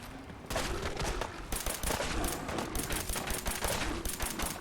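Rapid bursts of video game gunfire crackle in a dense, continuous volley after a brief quieter lead-in, loud and close.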